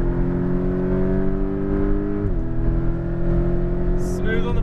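A sports car on a race track, during a GT2 RS versus Aventador SVJ outing at EXR Las Vegas, accelerates out of a corner with a steady, rising engine drone heard from inside, with a shift partway through and a brief whine at the end.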